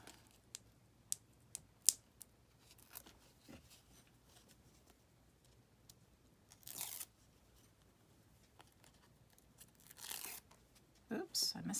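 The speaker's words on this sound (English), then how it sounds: "let's take the paper off" Backing paper is peeled off a card for a prompt journal, a few short rasping tears and scattered small clicks and rustles between quieter stretches.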